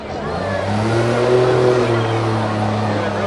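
Demolition derby car at a county fair revving its engine in a heat, a sustained mid-pitched roar that swells and holds steady, loud and fairly close.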